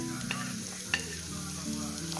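Golden onion frying with bacon in a pan, with a strong, steady close sizzle, a couple of sharp utensil taps and a low droning hum underneath.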